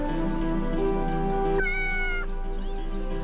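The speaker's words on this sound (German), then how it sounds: "Braves Kätzchen." A cat meows twice in the video game Yes, Your Grace, first a lower meow and then a higher, drawn-out one over a steady background music bed.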